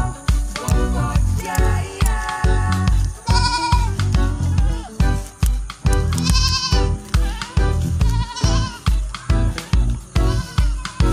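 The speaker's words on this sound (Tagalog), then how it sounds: "kambing." Goats bleat repeatedly, several wavering calls standing out over a steady rhythmic thumping background, fairly close and loud.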